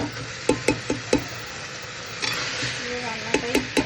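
Chicken stew masala sautéing in oil in a pan, with steady frying hiss and repeated sharp spoon knocks and scrapes against the pan at irregular intervals, close and moderately loud.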